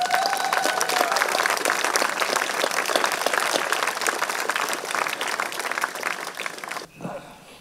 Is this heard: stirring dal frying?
no